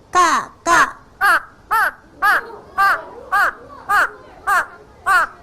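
A child imitates a crow, giving ten loud, evenly spaced caws in a steady rhythm, each call short and harsh with a falling pitch.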